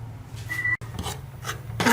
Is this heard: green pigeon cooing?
no